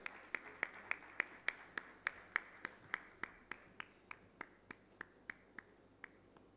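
Single person's slow, evenly spaced claps, about twenty in a row, fairly faint in a large conference hall with no talking, welcoming an award recipient on stage at a national mining ministers' conference.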